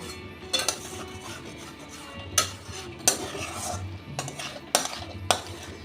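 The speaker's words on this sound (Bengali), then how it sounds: "ডিম সোয়াবিনটা দিয়েও আর একটু কষিয়ে নেব" Spices being stirred and fried with egg and soybean chunks in a pan, with repeated metal spoon scrapes and clinks against the pot over a low sizzle, in a regular stirring rhythm.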